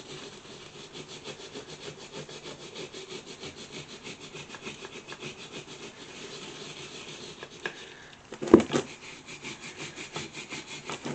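A metal wire brush scrubs into recesses of a piece under restoration that sandpaper cannot reach, giving a steady, close, rhythmic rasping that runs throughout, with a sharper knock or scrape near the end.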